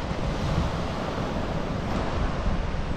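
Surf rolls onto the shore at Sulok Beach with a continuous roar of breaking waves, mixed with wind buffeting the microphone, loud and close with no voices.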